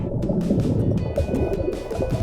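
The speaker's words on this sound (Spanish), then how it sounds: "acabamos aquí en esta cascada" Waterfall on Rarotonga in the Cook Islands, a steady broadband rush of falling water with gurgling and splashing, loud and continuous throughout.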